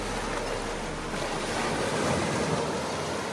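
Sea waves driven by strong wind on the Albanian coast, a dense, continuous roar of surf with heavy wind rumble on the microphone, loud and unbroken, no voices.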